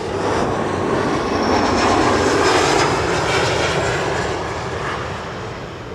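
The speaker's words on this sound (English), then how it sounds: "Another KLM Embraer 175" KLM Embraer 175 airliner at Schiphol, a loud jet engine roar that swells to a peak and then slowly fades as the aircraft passes nearby.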